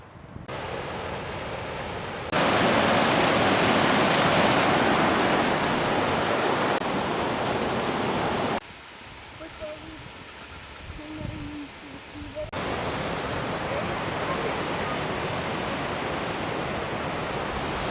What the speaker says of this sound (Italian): Siamo arrivati alla cascata del Pisciai